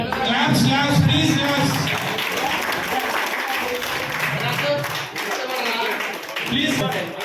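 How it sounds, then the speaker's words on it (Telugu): Audience at a school alumni reunion applauding, a dense burst of many hands clapping near and loud throughout, with voices mixed in underneath. "claps please"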